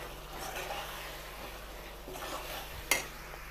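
Mashed eggplant and tomato bharta is stirred and mixed in a pan. A soft, steady scraping runs alongside a low sizzle, with one sharper clink of the utensil near the end.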